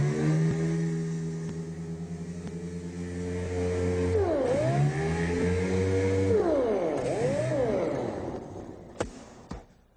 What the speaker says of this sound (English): I'm going to use the dual orbital sander for this to speed the process up a little bit